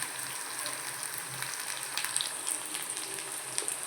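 Sliced onion frying in oil in a pan for masala poha, a continuous soft hiss of sizzling with light crackles, close and even, with no voices.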